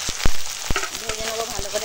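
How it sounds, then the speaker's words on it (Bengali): Onions and green chillies dropped into hot oil in a pan on a wood-fired clay stove, a loud sizzle with sharp clattering knocks from the utensil at the start. "ওই তেলে পেঁয়াজ আর কাঁচা লঙ্কা দিয়ে দিলাম"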